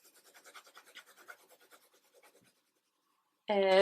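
Colored pencil held flat and shading across paper, a dry rapid back-and-forth scratching in quick strokes for a couple of seconds, close, then silence before a sudden loud burst of other sound.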